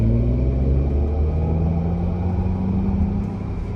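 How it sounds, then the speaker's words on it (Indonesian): A Mercedes-Benz cabin plays its Burmester 3D artificial engine sound in the Silver Wave setting, a steady low synthetic rumble with gentle rising tones that carries on evenly throughout and fades slightly at the end, with no talking. "Suara-suara tersebut itu diciptakan oleh speaker Burmester yang ada di kendaraan."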